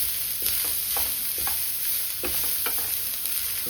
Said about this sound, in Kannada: ಇವಾಗ ಫ್ರೈ ಆಗೋವರೆಗೂ ಚೆನ್ನಾಗಿ ತಿರುಗಿಸ್ತಾನೆ ಇರಲಿ